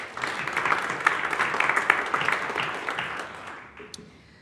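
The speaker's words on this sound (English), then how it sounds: "Applause." Audience applause at an immigration forum, a dense, steady patter of many hands clapping that swells and holds, then tapers off toward the end.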